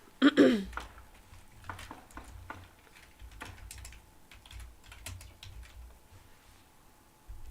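Light, irregular clicking of typing on a computer keyboard, close and fairly soft, with scattered keystrokes and brief pauses.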